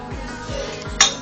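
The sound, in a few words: mashing banana with a fork in a dish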